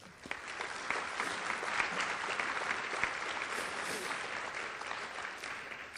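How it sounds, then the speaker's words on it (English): Audience applause at a youth recognition awards ceremony, a steady dense wash of clapping from a crowd in a hall, moderately distant and sustained throughout. "I think they deserve another round of applause"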